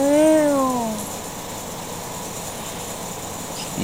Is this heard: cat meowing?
yes